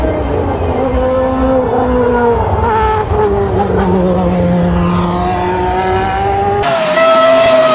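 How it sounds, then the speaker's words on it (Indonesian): A toy F1 race car gives off loud high-pitched engine whines that rise and fall in pitch, with shifting tones like revving and tire squeal, continuous and close. "Mobil F1 ini mobil balap ya adik-adik"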